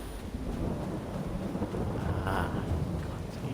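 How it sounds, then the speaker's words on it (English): Heavy rain in the Farming Simulator 22 video game, a steady dense wash of rainfall with low rumbling thunder beneath it, continuous and fairly loud throughout. "The amount of bloody raining it's doing."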